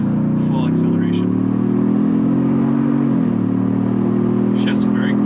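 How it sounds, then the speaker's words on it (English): A 2021 Ford Bronco Outer Banks at full throttle, its steady engine drone climbing in pitch with a quick shift partway through, heard from inside the cabin with wind noise throughout. "So let's listen here. Full acceleration."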